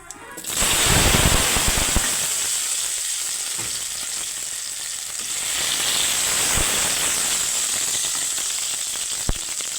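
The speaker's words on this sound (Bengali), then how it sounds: "এবারে কেটে রাখা আলুগুলো ভেজে নেবো" Cut potato pieces fry steadily in a pan of oil, a continuous close hiss and crackle with a few sharp pops and occasional stirring, no voices.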